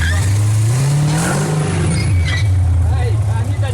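A 1967 Chevrolet Camaro SS drives on a road test, its engine note climbing and then settling into a loud, close, throaty drone, with voices over the engine.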